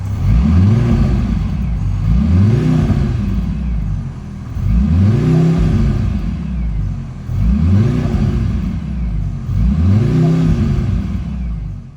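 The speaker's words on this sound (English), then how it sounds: "Let's give it some revs in race." Mercedes-AMG C63 four-cylinder engine revved in race mode while stationary, five repeated blips that swell and fall back roughly every two seconds, loud and droning, with no pops or bangs.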